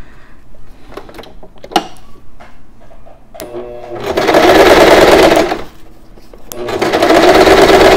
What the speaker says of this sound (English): And then I am going very nicely sew this on the machine.